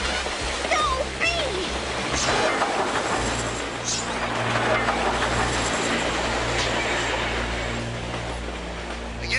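Trains rumble past in a cartoon scene, a loud continuous roar with rhythmic clatter and low mechanical drone, while voices speak briefly over it at the start.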